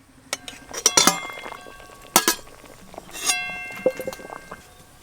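A metal lid lifted off a pan of boiled rohu fish pieces, giving a few sharp clinks and clattering knocks spaced over several seconds, close by with no talking.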